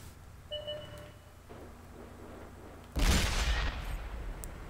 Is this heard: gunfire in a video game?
yes